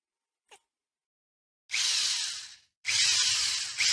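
A power drill whines in two bursts of about a second each after a brief click, drilling holes in a guitar jack plate, loud and close, with silence between them.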